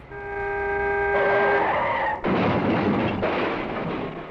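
A car brakes hard with a long, loud tire skid, a sustained screech that breaks into a rough scraping slide before fading.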